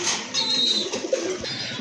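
Fancy pigeons cooing at a pigeon market, soft repeated coos and faint bird calls against a light background murmur.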